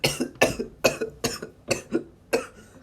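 Six harsh, wet coughs come in a steady rhythm, each a sharp burst close up and alone, from a wounded Naruto spitting blood.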